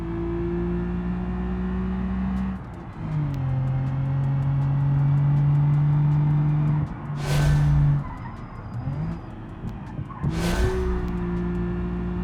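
A race car in BeamNG brakes hard from high speed, engine note dropping as tires squeal in two sharp screeching bursts, loud and close with no talk over it.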